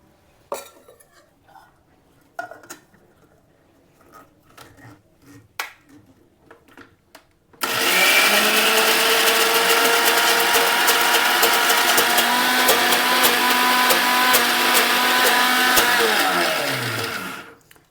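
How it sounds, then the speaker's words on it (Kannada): A few light clinks and taps, then a struggling mixer grinder starts on cooked pigeon pea lentils (toor dal) with a loud, steady whirring roar that runs for about ten seconds before winding down. "ಇದನ್ನು ಜಾರಿಗೆ ಹಾಕ್ಕೊಂಡು ರುಬ್ಕೊಳ್ಳೋಣ."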